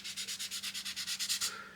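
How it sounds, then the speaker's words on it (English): A plastic part from an Airfix 1/48 SEPECAT Jaguar model kit is sanded with 220 grit sandpaper in a steady run of about a dozen close, soft scratchy rubbing strokes. "220 grit sanding thing."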